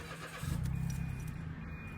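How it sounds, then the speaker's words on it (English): A Mitsubishi Mirage with a CVT cranks and starts, its engine catching into a steady low idle with a faint whine, close by and alone with no talk. "You start the car."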